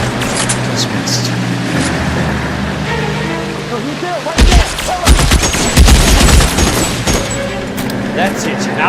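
Gunfire in the crime video game L.A. Noire, with loud bursts of shots breaking out over the game's steady background ambience partway through and continuing until the weapon runs out of ammunition.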